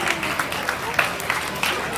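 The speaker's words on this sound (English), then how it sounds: "Round of applause, please." A round of applause at an athletics awards banquet, with brisk clapping from a gathered crowd, moderately loud and continuous over a short span.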